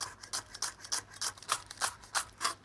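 Sharp knife slicing gathered spring onions on an angle on a board, about a dozen quick, even, crisp cuts in a steady rhythm, close but soft.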